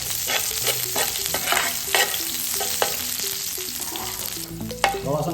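Garlic and onion sautéing in oil in a pan, a loud steady sizzle broken by repeated metallic scrapes and clinks of a spatula stirring, close and busy from start to end.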